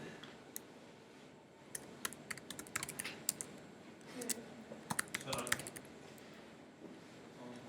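Students in an information security class type passwords on computer keyboards, producing bursts of quick, close plastic key clicks in uneven runs, with a faint murmur of voices in the room.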